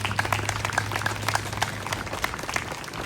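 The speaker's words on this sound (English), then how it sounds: "Let's give them a big round of applause." A crowd at an outdoor Flag Day ceremony in Porterville claps for the Elks Club in a steady, moderately loud spatter of many hands, with a low hum running underneath.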